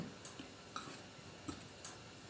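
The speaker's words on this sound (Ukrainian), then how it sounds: "Тепер до борошна додаю розпушувач і перемішую" Flour and baking powder stirred together for a sponge cake roll with apples and cinnamon; soft scraping with a handful of light clicks of the utensil against the bowl, faint and close.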